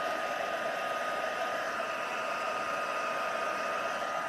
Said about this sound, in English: I wonder if my heat tool will stay on long enough for me to do a little bit more over here